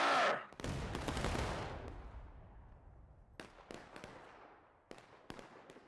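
A massed musket volley from a War of Rights Civil War battle erupts as one loud, rolling crack that decays over about a second, followed by scattered single gunshots further off.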